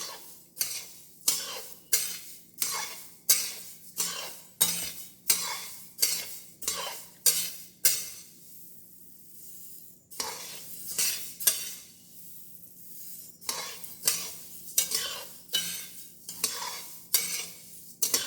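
Spices for sambar podi dry-roasting in a pan, stirred in a steady rhythm of close, crisp scrapes and rattles about twice a second, with a brief pause midway before the stirring resumes.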